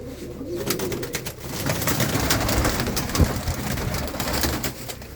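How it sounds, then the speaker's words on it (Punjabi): A group of pigeons perched close by coos in soft repeated low murmurs, joined by rustling and wing movement, a steady fairly loud flock sound with no speech. "ਕੁਝ ਕਬੂਤਰ ਬੈਠੇ ਇੱਧਰ"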